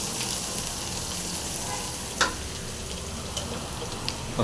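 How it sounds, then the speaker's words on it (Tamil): Garlic and curry leaves fry in oil for a fish sambar, giving off a steady close sizzle. A few sharp scrapes and clicks come as the pan is stirred. "பூண்டு நல்லா ஒரு கலக்கு கலைக்குங்க நல்லா ஃப்ரை ஆகட்டும்"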